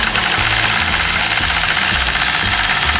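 A longarm or domestic quilting machine stitches straight lines guided along a mini 4-in-1 machine quilting ruler, giving a steady, loud, continuous mechanical hum with rapid rhythmic needle pulsing and no talk.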